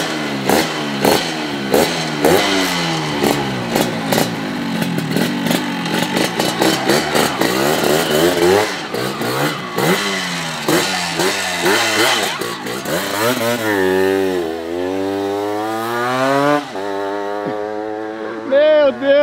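A Yamaha RD 350 two-stroke motorcycle engine fires up and revs repeatedly nearby in a garage, sharp throttle blips rising and falling loudly, with people talking and laughing over it.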